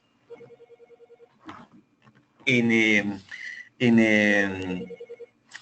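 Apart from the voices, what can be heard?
telephone ringing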